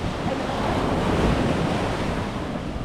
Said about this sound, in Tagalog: By the beach.